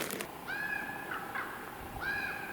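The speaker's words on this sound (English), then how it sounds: "I'm hearing a bunch of birds right now" A few harsh, cawing bird calls sound at moderate distance in a Washington State forest, spaced out over a quiet outdoor background.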